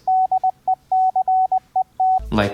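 Rapid Morse code beeps at 20 words per minute, a steady mid-pitched tone keyed in quick dots and dashes, loud and clear, cut off by a sudden burst of noise.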